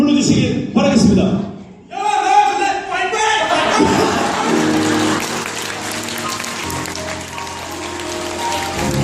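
Guests applauding as the groom enters a wedding hall, a continuous wash of clapping rising after an announcer's voice and sustained under ongoing talk and music.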